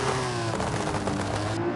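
A muscle car in Forza Horizon 5, fitted with a Japanese motor, revs steadily and loudly with a continuous engine roar over a short stretch, no voices over it.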